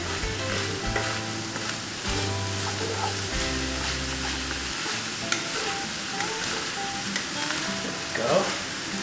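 Shepherd's pie filling stirred in a hot pan, a steady loud sizzle and frying crackle running throughout with scraping stir strokes, close by, with no talking.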